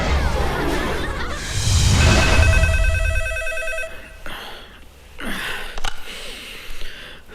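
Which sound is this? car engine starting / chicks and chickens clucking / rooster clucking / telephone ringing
telephone ringing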